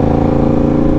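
A motorcycle engine drones loud and close while riding, a steady throbbing mid-pitched roar with a continuous rumble and no speech.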